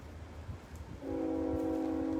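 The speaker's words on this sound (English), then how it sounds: "Sorry, that is a train." A train horn sounds close by near railroad tracks, a steady loud multi-tone blast that cuts in abruptly after a second of low rumbling background and holds to the end.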